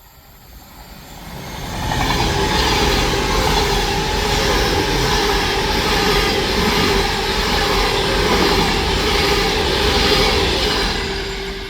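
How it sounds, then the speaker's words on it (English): A Class 390 Pendolino, an Avanti West Coast electric train from Manchester Piccadilly to Northampton, passes on the West Coast Main Line at Heaton Chapel, rising from quiet into a steady loud rumble and whine that holds for about ten seconds. "we're going to have a Class 390 Pendolino going from Manchester Piccadilly to Northampton"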